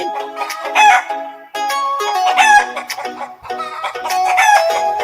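Chicken clucking and a rooster crowing, several loud, harmonic calls in bursts close to the microphone with no talking.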